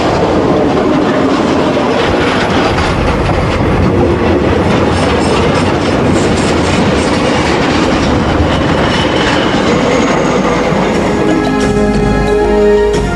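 A locomotive-hauled train on a railway line toward Victoria Falls rumbles steadily along the rails with rhythmic clickety-clack of wheels, loud and continuous throughout, with a faint squeal of wheels near the end.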